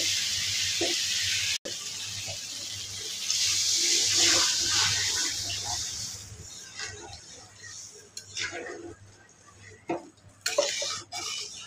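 Water pours into a cooking pot of fish curry with potatoes, a steady close hiss and splash for several seconds that then gives way to softer clinks of a pot and utensils.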